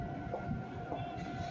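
A Meitetsu Nagoya Main Line train at Konomiya Station gives a low, steady rumble of rolling cars, moderately distant and continuous for a brief moment, with no speech.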